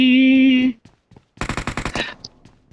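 Automatic gunfire from PUBG Mobile rattles off in a rapid, loud burst of about eight shots after a moment of sung, off-key voice and a brief quiet gap.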